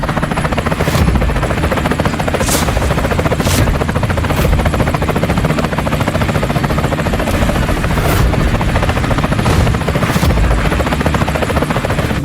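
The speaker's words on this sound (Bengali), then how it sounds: "আরে ওটা তো কোটি টাকার হেলিকপ্টার" A helicopter roars loud and close, its rotor wash a continuous dense rumble with faint rhythmic pulsing throughout and no voices.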